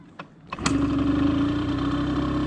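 A Suzuki SMX 50 two-stroke engine starts with a couple of sputtering pops, then settles into a steady, loud, close idle with slightly raised revs.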